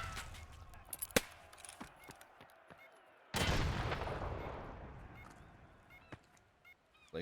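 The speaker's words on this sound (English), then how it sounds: "Oh, grenade!" A grenade detonates during a competitive shooter match, bursting loud and broad before a rumbling tail fades over several seconds, following scattered clicks and small impacts.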